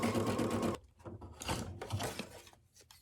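Embroidery machine stitching the outline of a snowglobe ornament design, a close, rapid mechanical chatter that stops abruptly, followed by quieter clicks and shuffling handling sounds.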